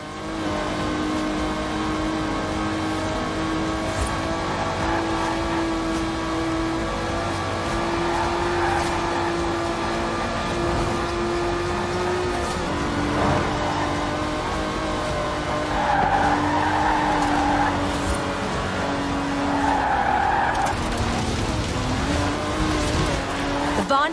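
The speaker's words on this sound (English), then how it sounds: "The Aston Martin DB5 Vantage was the quintessential Grand Tourer of the 1960s, combining British engineering and Italian design." Aston Martin DB5 Vantage, a 1960s grand tourer with side-draft carburettors, driven in Forza Horizon 4: a steady engine drone with shifting revs and repeated drawn-out tire squeals while a voice talks over it.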